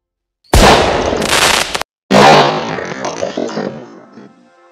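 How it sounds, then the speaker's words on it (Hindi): Two loud, sharp blasts from a homemade firecracker go off close by, each with a harsh crackling burst, the second trailing off into a fading rumble. "ये जो पटाखा बनाया था इसका धमाका कितना बड़ा था और जोर का था"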